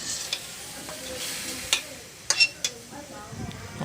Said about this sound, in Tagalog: So diri na ko i-add akong next na sagol na hot dog.